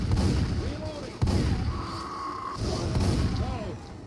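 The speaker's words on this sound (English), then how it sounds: "you're shooting in the direction of the witch" Gunfire in the video game Left 4 Dead 2, a few sharp shots among steady background game noise, with people talking over it.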